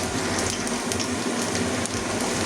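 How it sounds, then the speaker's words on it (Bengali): Potatoes frying in oil give a dense, continuous close sizzle and crackle at an even level, with no talking. "ভাজলেও হয় আলু, না ভাজলেও হয়, তো আমি ভেজে নিচ্ছি।"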